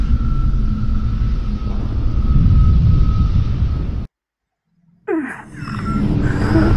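Covenant Phantom dropship landing in Halo 3: ODST, a loud, close, deep engine rumble with a whining hum that cuts to silence for about a second, then returns with a descending whoosh and swelling roar.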